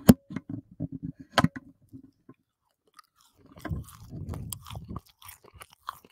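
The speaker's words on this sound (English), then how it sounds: "Oh, you want chewing loud" Loud, close chewing into a microphone, with wet crunchy bites in quick rhythmic bursts followed by a longer stretch of sloppy mastication.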